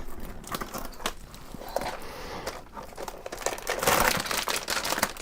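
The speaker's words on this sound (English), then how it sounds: "crinkling noises, sorry everyone" Packaging being handled close up, with dense, loud crinkling and crackling of plastic wrap continuing throughout and swelling toward the end.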